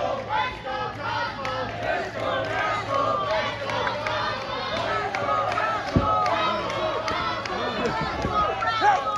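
A wrestling crowd split between two competitors cheers and chants continuously at a lively indoor event, a dense wash of voices with rhythmic shouts and claps, punctuated by sharp thuds from the ring.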